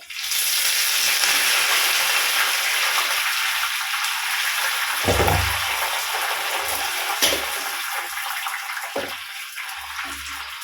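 Ginger and curry leaves fry in oil, sizzling and crackling steadily and loudly close up, with a few soft clinks and stirring bumps breaking through the constant hiss.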